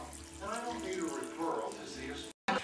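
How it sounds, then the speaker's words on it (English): Water filling a roasting pot for a pot roast, already holding meat and red wine, runs as a steady splashing pour with a brief break near the end, while a person talks throughout. "And then we're gonna fill this with water up to the top of everything"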